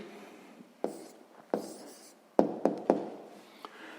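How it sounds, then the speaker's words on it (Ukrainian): Pen writing a math answer by hand on paper for a sixth-grade percentage problem, several close scratchy strokes and taps in quick bursts, quiet and alone. "Записуємо тоді відповідь."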